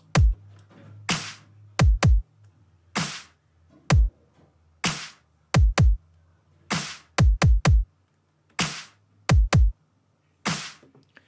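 A pitched-up snare sample layered with its original version hits in a loose electronic beat pattern, sometimes single and sometimes in quick doubles, each crack bright and punchy with a low body, over a faint low hum, no speech.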